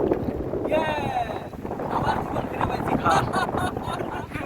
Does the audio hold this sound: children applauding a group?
no